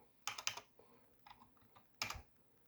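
Keystrokes on a computer keyboard come in two short bursts of quick clicks, a brief flurry, a pause, then a final cluster, close and fairly quiet with nothing else around.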